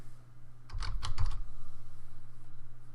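Keys on a computer keyboard are tapped in one quick burst of about five or six clicks, close and clear, then stop, leaving a low steady hum underneath; no one speaks.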